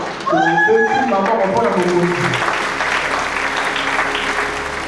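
A church congregation breaks into steady, loud applause that carries on to the end, following a voice calling out at the start.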